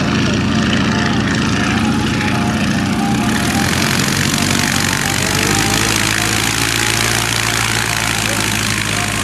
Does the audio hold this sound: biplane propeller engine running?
yes